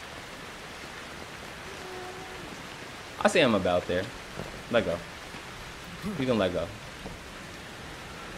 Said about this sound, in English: Why is it raining blood?